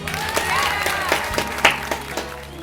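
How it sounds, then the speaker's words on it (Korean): Scattered applause with some cheering for sixth-grade children graduating from a church youth department, uneven claps rising and falling under a faint background hum. "우리 함께 졸업에 축하의 마음을 담아 우리 친구들에게 박수하겠습니다."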